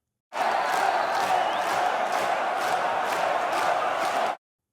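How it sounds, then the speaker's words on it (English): A synthetic crowd texture from a dance-pop remake production sits as a steady, dense wash of crowd roar and cheering, starting abruptly and cutting off cleanly after about four seconds, with faint rhythmic pulsing. "and also 2 crowd textures to fill up the mix more."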